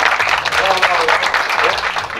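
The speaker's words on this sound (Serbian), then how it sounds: "Tako imam veliki aplauz ako može za njih." Applause for the organizers of a charity karting race, a dense, steady wash of clapping filling the whole moment at close range, with some voices mixed in underneath.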